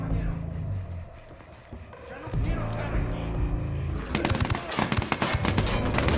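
Rapid bursts of automatic gunfire from the video game Ghost Recon Wildlands, growing into a dense, loud fusillade in the last seconds, with in-game music and voices running underneath.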